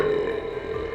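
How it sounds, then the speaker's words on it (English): A single loud, drawn-out burp from a girl, lasting about a second and heard on its own. "she lets out an earth-shaking burp"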